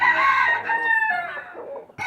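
A Kadaknath rooster crows once, loud and close, its long drawn-out call filling the moment with no talking.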